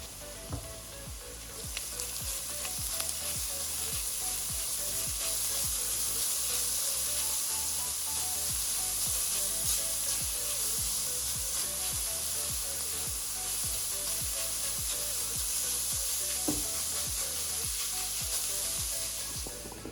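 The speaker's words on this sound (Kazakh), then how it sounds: "Енді үстінен сәбізімізді салып, 1-2 минут қана қуырып аламыз." Carrots dropped onto onions frying in a pan sizzle loudly and steadily, a dense continuous crackle with faint stirring scrapes underneath.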